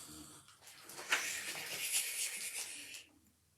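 Several children giving one long, breathy imitation snore together, a rasping, wheezy exhale of about two seconds that swells and then fades.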